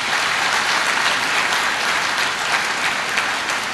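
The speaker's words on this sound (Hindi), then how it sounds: "ज़ोरदार तालियां तो बजाएं कम से कम उन माँ बाप के ऊपर के लिए" A convocation audience at a medical college graduation applauds, giving a loud, dense and even wall of clapping that holds steady throughout.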